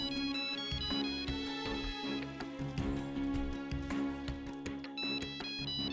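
A mobile phone ringtone plays continuously as a brother calls, a bright melodic electronic tune, loud and close, with no voices over it.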